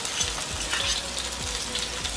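Large onion frying in a pan of hot oil for prawns with snake gourd, a dense, continuous loud crackling sizzle up close with no voices.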